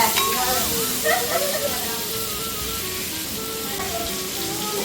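Fish fries in hot oil with a loud, continuous close-up sizzle and hiss that holds steady throughout, while people talk faintly in the background.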